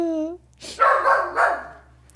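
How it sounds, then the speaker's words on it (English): A pet dog barking indoors close to the microphone, a few sharp barks in a short burst, preceded by a brief whining tone. "Now that you guys can hear Sadie, I'm trying to mute when she's barking."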